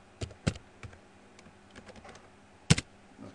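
A password typed on a computer keyboard at a robot control workstation: a few sparse, sharp key clicks with louder taps near the start and end, close and alone in a quiet room.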